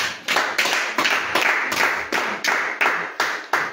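A small home-prayer group claps hands together in praise after prayer. The claps come close and loud in a steady, brisk rhythm of roughly three per second, with no voices over them.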